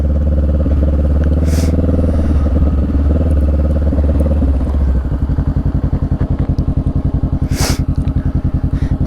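A motorcycle engine runs loud and close, its steady roar shifting to a rhythmic, pulsing throb as the rider eases the clutch out and pulls away, with faint clatter in the background.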